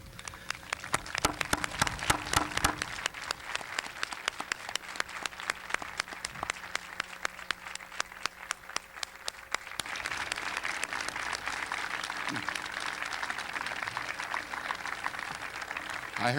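An audience at a university commencement ceremony claps in a sustained wave of applause. Sharp individual claps stand out at first, then the sound blends into dense, even clapping.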